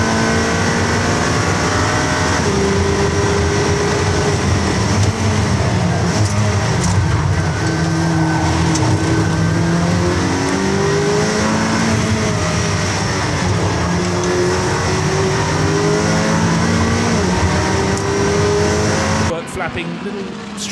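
GT4 race cars at the Nürburgring racing into a chicane, engines droning and revving with rising and falling pitch as cars brake and accelerate, loud and continuous beneath excited commentary.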